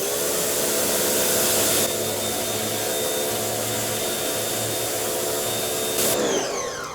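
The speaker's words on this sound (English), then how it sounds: "got my little pressure washer here, and we'll just go ahead and pressure wash this thing" A small pressure washer runs steadily while spraying down a Suzuki DRZ400 motorcycle during a garage teardown, a loud continuous motor drone with a hissing spray that shifts briefly near the end.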